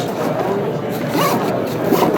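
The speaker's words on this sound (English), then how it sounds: "because we have the 4 zippers" Zippers on a bag being pulled open, quick close rasping strokes in a rapid sequence, with a voice talking over them.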